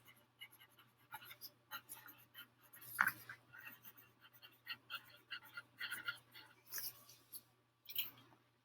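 Pen or pencil scratching across notebook paper in a series of short, soft strokes with small pauses between them, close up in a quiet room over a faint steady hum.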